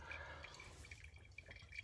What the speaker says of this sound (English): So I just want to make sure I keep pouring down the edge.